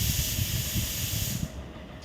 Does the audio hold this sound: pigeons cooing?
no